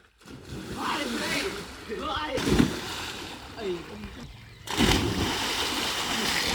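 People splashing and sloshing in village water while swimming, with bursts of splashing among voices calling and talking over the water.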